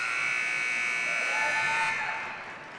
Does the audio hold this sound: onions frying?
no